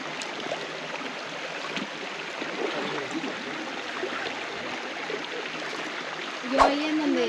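A large river flows with a steady broadband rush of water throughout, close and fairly loud, with a brief knock near the end.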